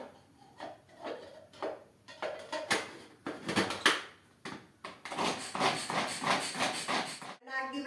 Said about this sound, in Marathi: आपल्याला बारीक कांदा कापून घ्यायचा